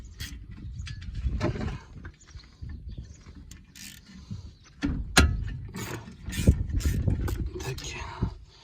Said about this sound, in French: On prend un petit cliquet.